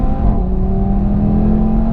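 A turbocharged five-cylinder Audi TT RS revs hard on a race track, its loud, close engine note climbing steadily in pitch through a continuous two-second pull.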